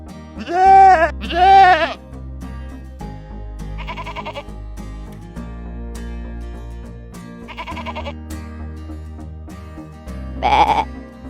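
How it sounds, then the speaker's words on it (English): A goat bleats in loud, quavering bursts, a close pair at first and then single calls spaced several seconds apart, over a steady musical backing. "Goat."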